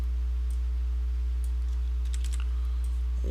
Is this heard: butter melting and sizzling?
no